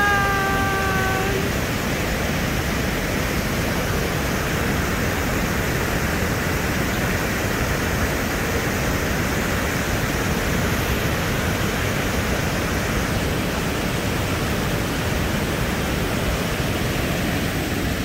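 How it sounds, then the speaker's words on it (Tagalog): Waterfall at Hamburg State Park in Georgia roaring loudly and continuously, a dense, steady rush of falling water that fills the whole scene. "The water falling"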